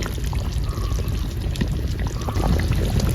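Oil is poured into a Mangalore-style catfish curry, a close, continuous liquid pouring and sizzling wash that stays steady throughout.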